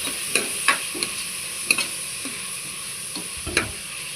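Tomato masala being stirred in a pan after salt and turmeric are added, giving soft scraping strokes roughly every half second over a faint steady sizzle, close and moderately quiet.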